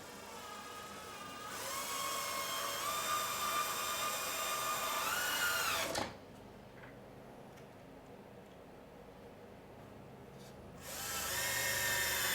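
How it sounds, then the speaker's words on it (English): Power drill driving screws into a cedar potting bench, two steady whining runs of several seconds each with a quiet pause between, the motor pitch sagging as the first screw seats, close and clear. "And I'm going to go ahead and put our screws in."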